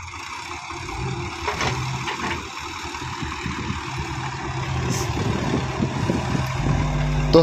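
A Sonalika Sikander tractor pulling a trolley labours up a steep, dangerous farm slope, running on two tyres. Its engine drones steadily and grows slightly louder and heavier as it climbs.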